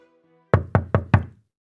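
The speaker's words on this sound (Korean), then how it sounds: "그러고는 문을 두드리는 거야." Four quick, close knocks on a door in an even rhythm, crisp and solid after a faint musical tone fades out.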